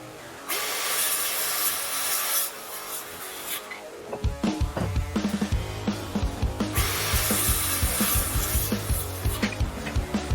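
Wooden boards being cut for a charred-wood shou sugi ban patio table: a loud, steady power-saw whine that drops out, then returns with busy clattering, thumps and a second long cutting run.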